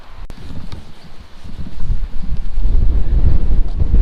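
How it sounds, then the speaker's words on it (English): Gusty wind buffets the microphone in low rumbling bursts in the countryside near woodland, growing stronger and rougher toward the end, with no voices. "Hopefully you can hear me okay. It's quite windy now."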